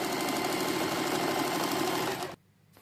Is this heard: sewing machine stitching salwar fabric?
yes